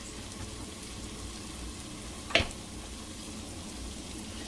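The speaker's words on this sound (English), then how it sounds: "let me go ahead and add in the garlic" Squeezed garlic goes into a hot pan for Cajun jambalaya, with one sharp splat followed by steady, moderate sizzling that continues underneath.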